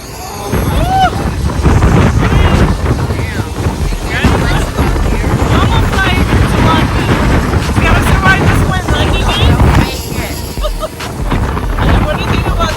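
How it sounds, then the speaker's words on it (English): Strong outdoor wind in Iceland buffets the microphone in a loud continuous roar, with people talking over it throughout. "What do you think about this wind?"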